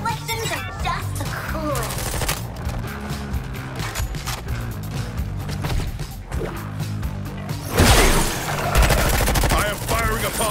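Gunfire in the video game Suicide Squad: Kill the Justice League, loud, continuous bursts of rapid shots mixed with crashes and impacts, with a heavy blast near the end and character voices talking over the shooting.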